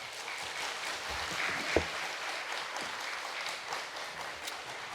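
A church congregation claps together at a Friday prayer meeting, a steady, even roar of applause filling the room from start to finish with no talking.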